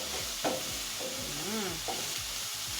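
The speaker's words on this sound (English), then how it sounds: "Now we are going to add in the onions" Onions in cooking oil sizzle steadily in a pan while being stirred, with a constant frying hiss and soft scraping strokes close by.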